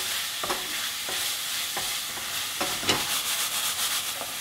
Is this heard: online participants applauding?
no